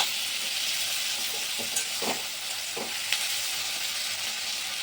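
Flattened rice (chira) fries in a pan with salt and turmeric, giving a steady soft sizzle and hiss with a few light stirring scrapes, close and even throughout, with no voices.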